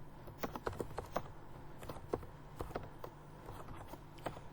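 Rapid clicking keystrokes on a computer keyboard as C# code for a Hello World console app is typed in Notepad, an uneven run of close, crisp taps with no talking.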